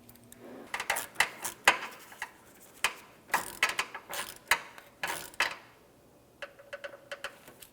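A wrench tightens a hose clamp and fitting on a power steering pressure hose of a 2006–2011 Honda Civic, giving irregular clusters of close metallic ratchet clicks and clanks separated by short pauses.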